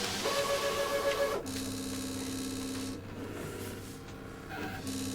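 Brother ScanNCut cutting machine running a direct cut on a fabric mat, a steady mechanical whir and motor hum with shifting tones and brief rasping changes as the blade carriage moves, close and moderately quiet, no talking.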